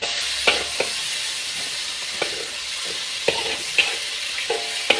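Shallots frying in a pan, a steady soft hiss of sizzling oil with a few scattered clinks and scrapes of stirring, close but moderate in level and without talk.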